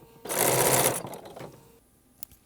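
A sewing machine runs in one short, loud burst of rapid stitching through quilt binding, then slows and stops, followed by a quiet pause and a small click.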